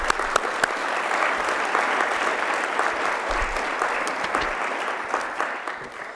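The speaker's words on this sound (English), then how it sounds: "Let's give them all a round of applause" At the 2019 Mayor's Performance Awards, an audience applauds honorees for longtime city-county service, with sustained many-handed clapping at even strength that thins slightly at the end.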